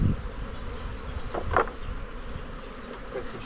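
Honey bees buzz around beehive supers during a spring honey extraction, a steady close hum with a few louder passes of individual bees near the microphone.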